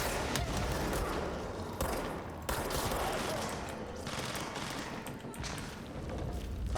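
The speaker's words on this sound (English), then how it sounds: "Still hear him shooting." Sustained rapid gunfire from a streamed video game, a dense continuous fusillade of automatic shots running throughout with brief dips, loud and close, no talk over it.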